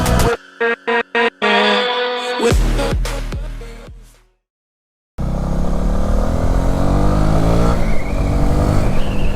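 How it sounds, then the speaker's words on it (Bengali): A loud motorcycle engine revs in short bursts, then roars and climbs in pitch, cuts out briefly, and resumes as a sustained accelerating motor roar. "মনে হবে যে আপনি একটা পাওয়ারফুল স্পোর্টস বাইকই চালাইতেছেন"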